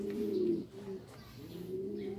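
Pigeons cooing close by, two soft, throaty rolling coos separated by a short pause, with no talking.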